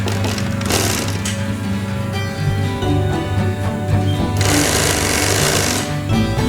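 Electric sewing machine stitching a curved fabric seam one centimetre from the edge, a loud, fast mechanical whirring and clatter running in steady bursts with brief pauses between runs.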